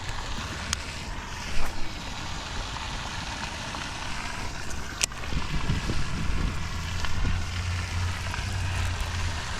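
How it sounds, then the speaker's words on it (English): Wind blows steadily across an open pond on a February day, roughing up the microphone with a low rumbling buffet that swells and eases throughout, along with a few faint clicks and handling knocks nearby. "This wind is giving me a little bit of trouble."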